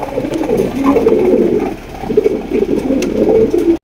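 Dhaka pigeons cooing close by, a dense overlapping chorus of low throaty coos in rolling phrases with no voices, ending in a brief thump.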